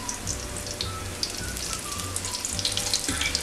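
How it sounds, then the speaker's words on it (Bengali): Fritters of rohu fish roe sizzle in hot oil, crackling steadily with scattered sharp pops. A low hum runs underneath, and the frying stays close and even throughout. "একটা সাইড আমার ফ্রাই করা হয়ে গেছে, এবার আমি অপোজিট সাইডগুলো দিয়ে দিচ্ছি।"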